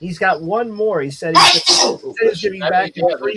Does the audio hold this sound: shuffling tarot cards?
no